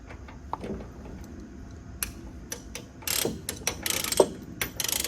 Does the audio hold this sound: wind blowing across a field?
no